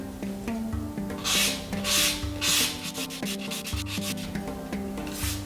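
Hand sanding the bevels of a cut glass bottle edge, a close, rhythmic series of scratchy rubbing strokes, some longer and louder, over a faint low hum.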